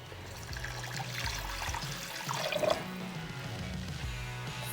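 Broth being poured into a cooking pot, about four cups, a steady liquid splash and trickle running throughout, moderately close with a brief louder surge midway.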